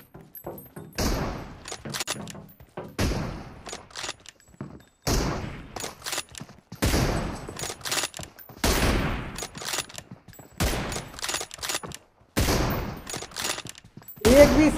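Gunfire in the battle-royale video game BGMI comes in repeated loud bursts of rapid shots, roughly every second or two, separated by brief quiet gaps.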